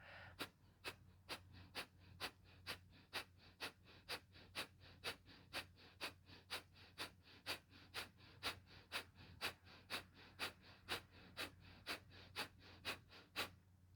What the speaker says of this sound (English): now we're going to begin to move the energy in the navel with this breath of fire